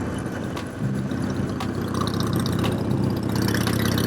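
A Harley-Davidson Iron 883 motorcycle rides through the Okanagan Valley, its V-twin engine giving a continuous throbbing rumble mixed with wind rush, steady and loud as it rolls along the road.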